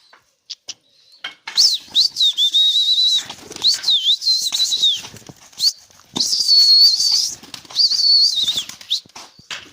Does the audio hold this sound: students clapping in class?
no